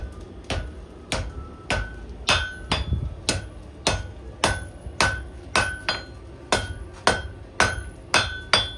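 A hammer strikes a hot metal bar on an anvil while a leaf keyring is forged. Roughly eighteen sharp, ringing blows fall in a steady rhythm of about two per second, close and clear with no voices.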